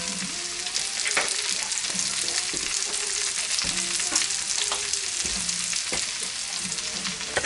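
Bacon fries in a pan with a loud, continuous close sizzle and crackle, alongside a few scraping clinks of a utensil moving the strips.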